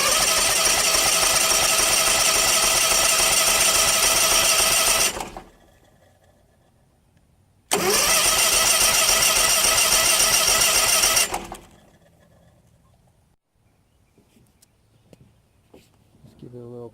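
A cheap used zero-turn mower engine cranks hard and loud for about five seconds, stops, then cranks again for about four more. Quiet pauses follow each attempt, with faint handling noise at the end.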